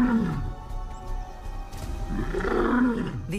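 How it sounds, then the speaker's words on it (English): Lions roar on the African savanna, a series of loud, deep, close calls rising and falling over a few seconds, with no voices. "These roars declare not possession of territory, but availability."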